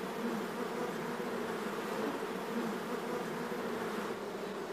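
Honeybees hum inside an open hive while the queen is swapped for a new one imported from Northern California, a dense, steady buzzing swarm sound at moderate level, continuous and close, with no talking.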